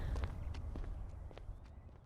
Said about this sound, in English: I did hear the sound of footsteps behind me